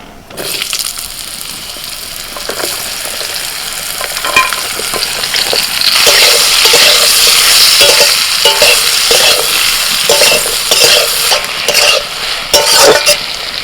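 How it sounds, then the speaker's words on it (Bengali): Ridge gourd fries in hot oil in a pan, giving a steady, loud, close sizzle throughout with scattered scraping stirs and light clinks. "এবার ঝিঙেটা একটু ভেজে নেব"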